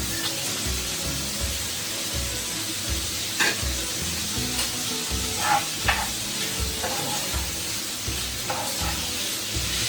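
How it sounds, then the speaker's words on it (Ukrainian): Ham frying in a pan for solyanka, a steady close sizzle with occasional stirring scrapes and spits throughout, no talking. "занурювати нашу шинку на смажку"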